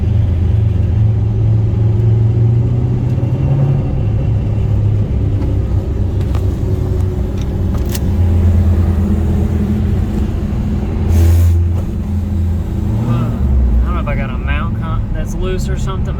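Deep, rumbling engine of a modified Chevrolet Camaro idles and revs loudly up close, its low throb shifting in pitch, with a voice talking over it.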